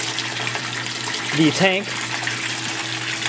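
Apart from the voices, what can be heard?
water flowing through aquaponics standpipe into IBC tank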